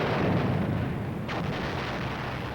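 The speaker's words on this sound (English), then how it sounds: "we hear a barrage of shell fire laid on the objective" An artillery shell barrage falls on a hill objective, heard from inside a personnel carrier as a dense, continuous, booming rumble with overlapping blasts and no distinct gaps.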